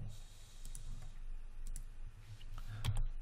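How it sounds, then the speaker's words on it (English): Computer keyboard keys pressed while modelling a tire and rim in Maya: a few faint, scattered clicks over a quiet room hiss, with no talking. "Hit Q on a keyboard."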